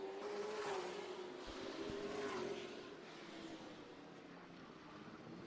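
Race cars lapping during Friday night practice at Madera track, a faint, distant engine drone that swells and fades, with a sustained tonal whine, heard alone without talk.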